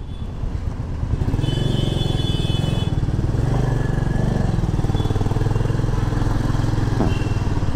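A motorcycle rides through busy traffic, its engine rumbling steadily and close by throughout, with occasional higher tones and other vehicles adding to the background.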